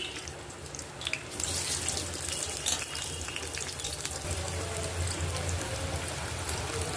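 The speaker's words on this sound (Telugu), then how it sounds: "ఆయిల్ హీట్ అయిందండి కాకరకాయ ముక్కలు వేయించుకుందాం" Bitter gourd pieces deep frying in hot oil give a steady, even hiss with scattered crackles and pops, heard up close with nobody speaking.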